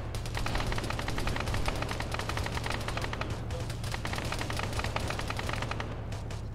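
Sustained gunfire in the military shooter Arma 3, dense rapid automatic bursts and overlapping shots rattling continuously at a loud, steady level, with a low constant drone beneath and no talk.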